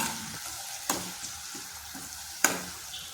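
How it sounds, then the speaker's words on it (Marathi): Onion and ginger-garlic-green chili paste sautéing in oil for paneer butter masala, a low sizzle broken by two sharp spatula knocks on the pan, close and brief, with no talking. "मी जी अद्रक लसूण आणि हिरवी मिरचीची पेस्ट बनवली होती तीही टाकून घेतली आहे"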